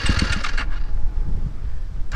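A KTM 350XCF dirt bike engine, freshly rebuilt, cranks and catches, with a rough low burbling rumble that surges in short bursts at first, then settles into an uneven idle, loud and close.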